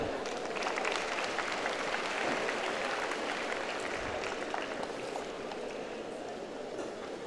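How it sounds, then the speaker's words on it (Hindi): A school gathering in India claps for girls of St. Thomas Girls Senior Secondary School coming to the stage, a dense wash of audience applause holding steady and then easing slightly, heard alone. "हम इनके सम्मान में पोषण से भरी तालियां बजाएं"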